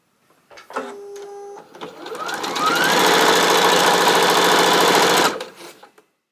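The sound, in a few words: sewing machine stitching quilt block rows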